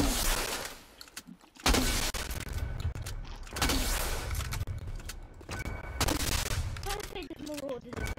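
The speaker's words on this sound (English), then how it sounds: "Yeah, I'm shooting players." Rapid bursts of gunfire in the video game Fortnite, repeated volleys at moderate level with short gaps between them.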